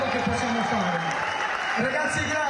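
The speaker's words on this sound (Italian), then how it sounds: "io farei un applauso forte, facciamoci sentire" Applause from an audience at a live Italian television news broadcast, steady and dense throughout with voices talking over it.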